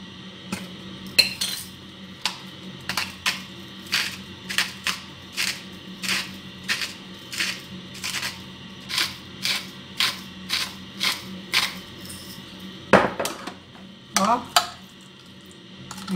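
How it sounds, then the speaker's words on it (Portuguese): Repeated clinks of a utensil against a bowl in a steady rhythm, with a few louder scrapes and knocks, close by and without talk, while stirring garlic sauce with pink salt. "A gente mexe tudo isso assim."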